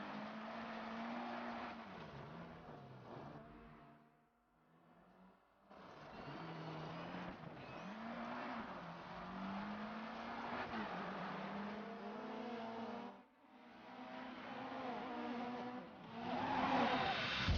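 In DiRT 3, a Peugeot 205 T16 Evo 2 Group B rally car revs and shifts through gears, its engine note rising and falling continuously with brief lifts off the throttle, fairly distant and mixed low.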